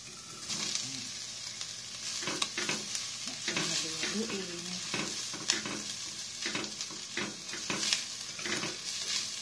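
Sautéed onions are stirred in a hot pan before chicken is added for a macaroni salad. Close, rhythmic spatula scrapes ride over a steady sizzle, with occasional sharper sizzling bursts.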